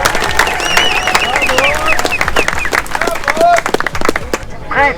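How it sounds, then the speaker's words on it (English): Crowd clapping and cheering outdoors at a community bike ride in support of Black Pound Day, loud, close bursts of claps with whoops and shouting voices mixed throughout. "Give yourselves a round of applause one more time."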